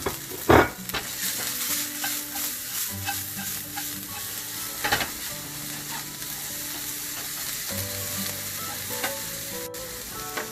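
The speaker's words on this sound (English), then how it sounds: "Then I'm gonna put green chili, onion and carrots, and I'm gonna saute it a little bit." Green chili, onion and carrots sauté in a pan with a constant close sizzle, punctuated by clattering stirs and scrapes of a utensil, a sharp knock near the start, and faint background music.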